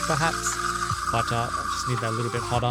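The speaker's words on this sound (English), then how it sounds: "Excuse the noise, because yeah, steaming water is not quiet." A Turin MC3 espresso machine's steam wand steams water with a steady hiss that runs beneath a person talking close by.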